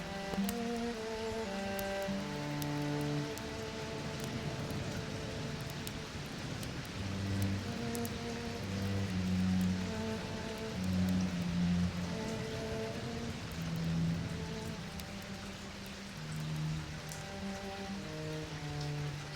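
Steady rain patters and drums continuously on a tavern roof, a dense hiss of drops with occasional heavier taps, no voices.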